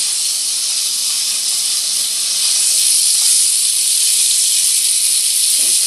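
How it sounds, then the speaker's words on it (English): Bite-sized Swiss chard stems sizzling in a hot pan, a loud, even, continuous hiss that holds steady and swells slightly toward the end, with no speech. "I cut them into nice bite-sized pieces and add them to the hot pan."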